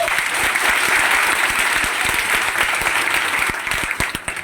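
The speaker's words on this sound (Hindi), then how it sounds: "एक बार इस बंदे के लिए ताली तो होना चाहिए" A seminar audience gives loud, steady applause, dense continuous clapping filling the room from start to finish.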